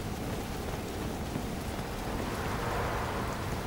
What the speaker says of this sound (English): I hate rain on this game.